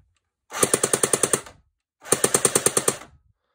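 A Cyma AK47 airsoft electric gun replica fires full auto indoors in two separate bursts of roughly ten rapid, sharp, evenly spaced mechanical shots, close and loud with silence between.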